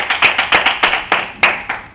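A church congregation claps in a sharp, regular rhythm of about five claps per second, crisp and close, with no talking over it.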